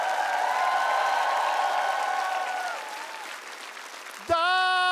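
Studio audience applause for a performer and musicians after a tribute on a TV talent show, dense and steady, fading slightly before a sustained musical chord cuts in near the end.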